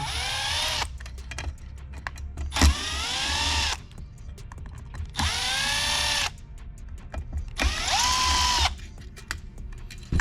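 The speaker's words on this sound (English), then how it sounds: "You're gonna wanna undo these screws." A power drill backs screws out of a Uconnect 8.4 head unit, whirring in three or four loud sustained bursts with short pauses and clicks between them, close up and with no voices.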